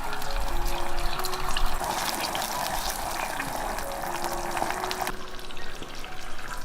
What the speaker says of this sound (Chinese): 然后加入香菇水煮开，最后淋入淀粉水勾芡